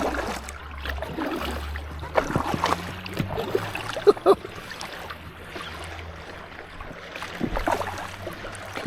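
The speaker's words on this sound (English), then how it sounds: "Got some waves coming in from that speedboat." Wake from a passing speedboat laps against an inflatable kayak on a lake, soft irregular slaps and splashes close by over a low rumble of water, with a couple of sharper knocks.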